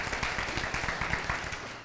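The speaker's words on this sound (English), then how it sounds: "Round of applause, please, for Ann." An audience at a policy breakfast applauds steadily, many hands clapping in a dense continuous patter that fades slightly toward the end.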